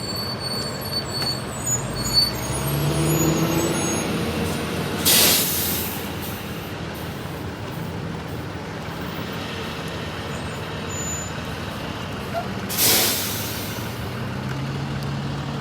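A city bus sits idling with a low, steady engine rumble and no talk, joined by two brief loud hissing bursts, likely air brakes releasing, near the start and again near the end.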